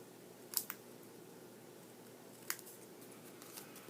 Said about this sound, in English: these little ends I'll cut off